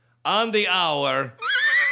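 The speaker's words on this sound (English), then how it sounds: "At the sound of the loud horse, it's 3 a.m." A loud, drawn-out horse neigh with a wavering pitch rings out alone, then a voice starts talking right after it.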